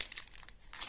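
A Pokémon card booster pack wrapper crinkles and crackles in quick, close bursts, with no voices.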